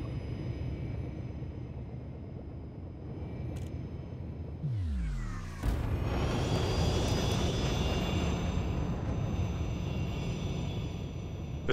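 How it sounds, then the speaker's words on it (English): In the game Elite: Dangerous, a Lakon Type-6 ship hums steadily until a sharp descending sweep and whine leads into a louder, sustained roar as it boosts at full speed. "It's pretty loud when it's boosting at full speed."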